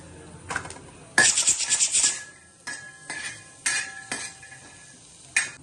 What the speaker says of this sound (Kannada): ಇದರಲ್ಲೇನೆ ಮೆಣಸು, ಲವಂಗ ಎರಡನ್ನೂ ಹುರ್ಕೊಂಡ್ಬಿಡಿ.